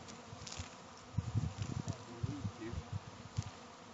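Honey bees buzz in a low, wavering drone while being hived into a box, a swarm of close, overlapping hums rising and falling outdoors.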